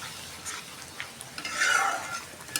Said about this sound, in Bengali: এই যে রোস্টের মশলাটা কষাই নিতেছি